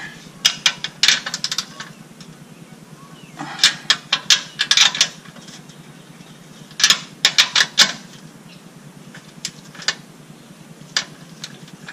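A hand ratchet with a deep socket tightens air suspension compressor bolts on a 2007-era Escalade, Tahoe, Yukon or Suburban, giving close, crisp clicking bursts in uneven spurts with short pauses between strokes.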